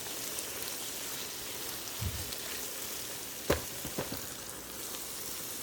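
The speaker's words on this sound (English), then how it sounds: "Give it a nice little stir around." Callaloo with salted cod being stirred in a pan, a steady faint sizzling hiss with a few soft scraping knocks of the spoon against the pan.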